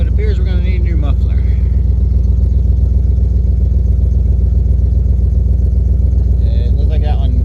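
A van engine with a blown muffler idles loudly and roughly, a constant deep throbbing rumble close by, while someone talks over it.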